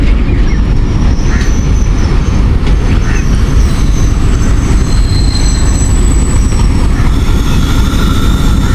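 A locomotive-hauled Thal Express rolls through Taxila Cantt station close by, a loud, heavy rumble of wagons and wheels with faint squeals of steel on rail over the full length.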